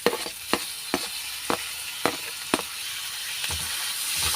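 Grated carrot and tomato stir-fried briefly in a pan for a vegetable roll, with regular spatula scrapes about every half second over a soft, steady sizzle, close up and with no voices.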